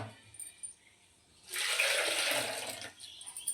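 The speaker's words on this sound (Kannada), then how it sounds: "ಸಾರಿಗೆ ಎಷ್ಟು ಬೇಕಷ್ಟು ನೀರು ಸೇರಿಸ್ಬೇಕೀಗ" Water pours into a pot of fish sambar in a steady rush lasting about a second and a half, loud and close, then tapers off into quiet kitchen background.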